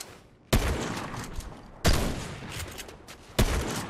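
Three heavy, booming sniper shots in Fortnite, evenly spaced about a second and a half apart, each loud and sharp with a long decaying tail, and no one talking.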